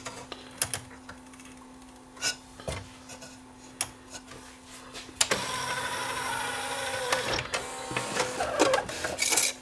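Yamaha CDC745 CD changer mechanism whirring and clicking as it tries to spin, with scattered mechanical ticks and taps giving way to a steadier close-up motor whine in the second half.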